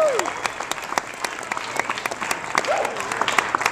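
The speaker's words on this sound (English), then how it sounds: "let's have a round of applause for Benjamin Pratt." Audience applause fills the room at an evening music event, a steady dense patter of many hands clapping with a few cheers and whoops rising through it.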